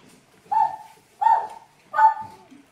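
A puppy in a forest gives three short, yipping barks spaced evenly apart, fairly close and clear, over quiet woodland background.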